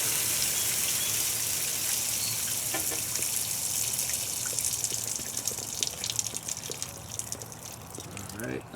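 Water gushes and hisses steadily from an outdoor hose bib with a vacuum breaker as its pressure is relieved, a continuous close spray that keeps going under occasional faint talk.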